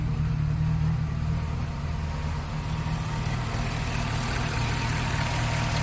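A 1998 Chevy Suburban with a swapped 5.3 LS V8 and upgraded rocker arm trunnions idles cold, giving a steady, close, low rumble that runs unbroken throughout with no one talking.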